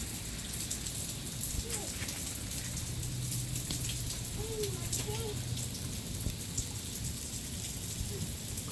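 Steady outdoor rain hisses evenly throughout, with a few faint voices and brief calls in the background.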